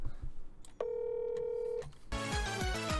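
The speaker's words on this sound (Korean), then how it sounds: "아 전화 왔다" An electronic phone tone sounds with a steady beep that holds for about a second, then a bright synthesized ringtone melody starts playing loudly.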